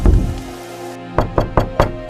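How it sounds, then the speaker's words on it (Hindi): Knocking on a wooden door in a cartoon story, four sharp, evenly spaced raps close by after a brief fading sound, with no voices. "तभी दरवाजे पर कोई दस्तक देता है।"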